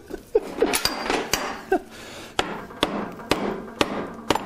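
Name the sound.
tapping motorcycle swingarm axle through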